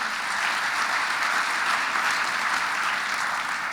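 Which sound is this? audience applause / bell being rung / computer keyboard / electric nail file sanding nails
audience applause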